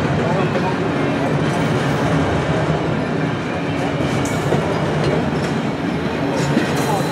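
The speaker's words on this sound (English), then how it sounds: "here come the final bare tables of the train" Empty flat freight cars at the tail of Norfolk Southern train V07 roll past close by in a continuous loud rumble of wheels and rattling steel.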